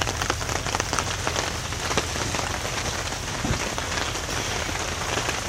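Steady rain falling on a camp with a tarp and cot set up, a dense continuous patter close by with scattered louder drops.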